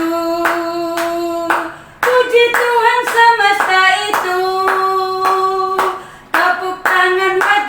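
Schoolchildren at a morning worship service clap sharply in time with a sung hymn, crisp rhythmic claps punctuating steady singing voices in a group.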